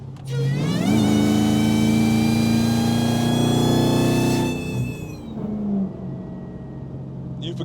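A 1,000-horsepower Hellcat Charger running on E85 revs hard, its engine note climbing and holding with a high supercharger whine on top, then easing off and settling; loud and close, with no speech.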